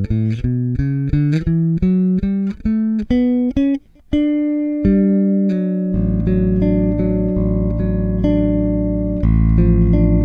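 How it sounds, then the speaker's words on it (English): A Sadowsky MetroLine hybrid P/J solid-body bass plays in passive mode with both pickups, first a run of even, plucked notes and then long sustained tones ringing out cleanly, with no talk. "So this is the basic sound of the bass and check out this amazing evenness."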